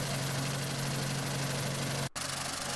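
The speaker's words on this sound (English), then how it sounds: "And that's a real quiet running mower." A Farm Max sickle mower, back cover off to expose its belts, runs with a steady, quiet mechanical hum and a brief dropout near the end.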